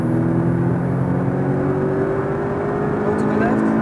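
A Porsche Cayman T accelerates hard on the Hockenheimring circuit, its engine note a loud, steady rising drone heard from onboard, continuous throughout with a faint high whine above.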